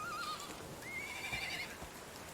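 Horses in Medieval Dynasty give two clear whinnies, a short one followed by a longer wavering one, fairly close over quiet ambient background.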